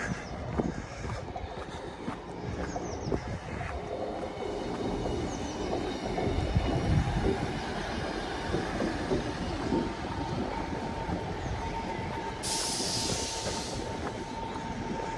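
A train idles at a station with a steady rumbling hum, occasional metallic clanks and a brief hiss near the end, no voices.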